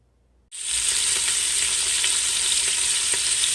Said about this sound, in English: we've got the meat browning in here